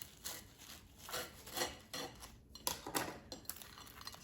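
A knife saws through a crispy air-fried salami sandwich with melted cheese, several rough crunchy strokes with scraping and a light clatter against a plate, close and fairly quiet.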